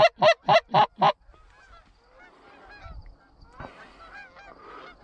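Geese honk loudly in a quick series of five calls at the start of a goose hunt, followed by fainter scattered honks and faint rustling, with no talking.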